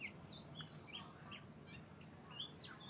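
An oriental magpie-robin chirps and whistles in short, bright bursts scattered across a faint, steady background hum, quiet and somewhat distant, with no talking.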